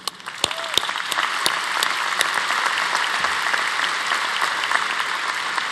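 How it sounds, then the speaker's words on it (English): Sustained applause from a large university commencement crowd, steady dense clapping throughout with a few louder claps standing out near the start. "please join me in a round of applause for all these dedicated servants of the university"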